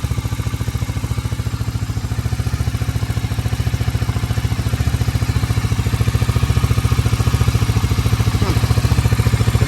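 A four-wheeler ATV engine, running after carburetor work, idles close and loud with a steady rapid pulsing chug that stays even throughout, with no voices over it.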